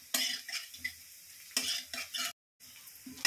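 Onions browning in hot oil for a potato and egg curry, sizzling steadily while a spoon scrapes and stirs them in the pan in short repeated bursts, close up, with a brief silent gap.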